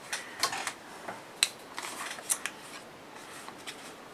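Scissors snip through paper while a 6x4 mini album with open pockets and flaps is being made, giving a series of sharp, close cutting clicks spaced irregularly, with no voices.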